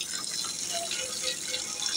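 Water is poured and splashed over a sheep's wool as it is washed, a steady broadband rush with soft trickling and dripping that carries on without a break and without voices.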